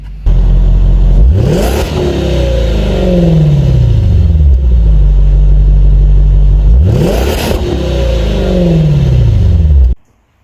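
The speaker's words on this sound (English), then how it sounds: "All you hear is supercharger, no exhaust." A Jaguar's supercharged engine with stock mufflers revs twice, each rise ending in a sharp supercharger whine and falling pitch, loud and close, then cutting off.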